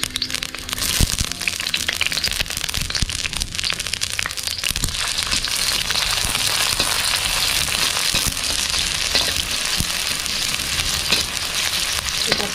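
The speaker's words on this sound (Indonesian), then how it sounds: "Panaskan minyak. Kita masukkan bawang putih dan bawang merah." Garlic and shallots fry in hot oil, giving a loud, steady sizzle with crackling spatters and occasional sharp pops throughout.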